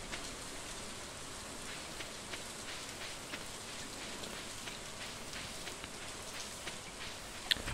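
Rain in the Stardew Valley farming game patters steadily as a soft, even hiss with faint scattered droplet ticks, quiet and continuous throughout with no talking.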